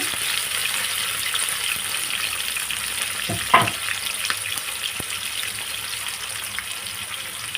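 Sliced onion dropped into hot oil for a mutton gongura curry gives a steady, close sizzle, with a brief louder clatter and splash midway as the pieces hit the pan.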